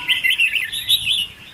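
A red-whiskered bulbul sings a lively run of bright, warbling chirps and tweets, loud and close, with short phrases repeated in quick succession and no voices.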